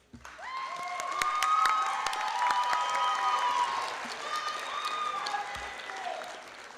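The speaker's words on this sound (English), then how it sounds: "graduates, let's give your supporters and cheerleaders a round of applause" A graduation audience for an adult basic high school equivalency ceremony breaks into sustained applause, dense clapping swelling quickly and holding steady with faint cheers before tapering slightly near the end.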